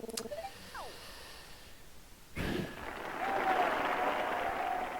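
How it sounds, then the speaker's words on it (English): Crowd cheering in the video game Fossil Fighters swells in midway and holds as a steady, moderately loud roar, with a brief whistle-like tone riding on top near the end. "I like the cheering crowd there."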